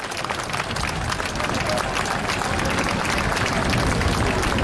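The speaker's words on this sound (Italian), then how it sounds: "Sottolineiamolo con un grande applauso e stentoniamo le banderine." A large outdoor crowd at the Jesolo air show applauds steadily, a dense, continuous wash of clapping that holds at an even level throughout.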